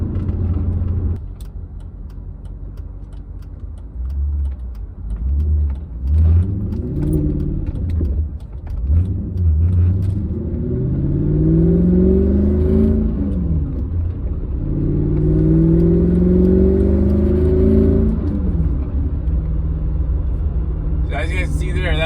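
A Mercedes C55 AMG converted to a manual gearbox pulls from first into second gear from inside the cabin, its engine rumble rising in pitch, dropping at the shift and climbing again, while a person talks over it.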